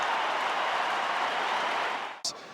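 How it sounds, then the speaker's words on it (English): Saints supporters at a 2019 AFL match between St Kilda and Hawthorn roar in a loud, steady wash of cheering and applause from a large stadium crowd, which cuts off sharply near the end. "and Saints fans cheer."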